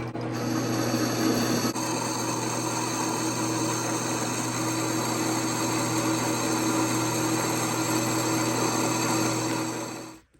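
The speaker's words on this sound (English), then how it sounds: "this small part of the shank that I'm machining now is going to be what goes in to the hole" Steel forging shank being machined, a continuous loud grinding, rasping whine with steady tonal hum that holds evenly for about ten seconds before cutting off, no talking.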